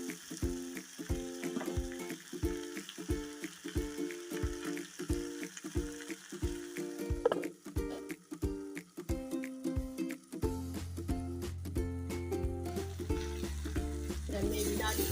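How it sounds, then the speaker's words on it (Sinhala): A mixture steams and sizzles in a covered pan, close and steady. Rhythmic stirring and scraping come first, then a denser continuous frying hiss, with music underneath. "හොඳට කලවම් කරලා විනාඩි 2-3ක් බහලා තියලා තියමු තැම්බෙන්න."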